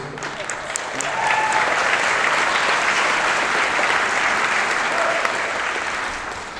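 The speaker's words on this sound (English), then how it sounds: "never before have people clapped after every answer" An audience at the 2022 Teen Indie Awards breaks into sustained applause after an interview answer, a dense, steady wash of clapping that swells in and fades slightly at the end.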